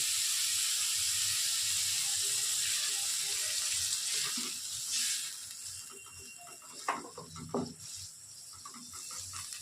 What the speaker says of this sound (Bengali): এবার আমি অল্প জল দিচ্ছি